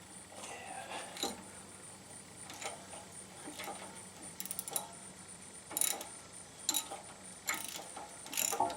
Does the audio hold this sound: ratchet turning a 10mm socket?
yes